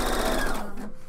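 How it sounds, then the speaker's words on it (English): A sewing machine stitches fabric together for a garment, a steady close mechanical whir that runs on evenly before easing off near the end, with no talking. "we're just stitching this together with a sewing machine after the edges are finished"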